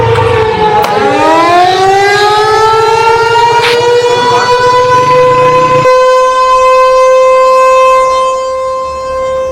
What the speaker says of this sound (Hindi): लाहौर में सायरन बजना शुरू हुआ